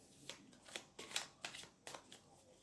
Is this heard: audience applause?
no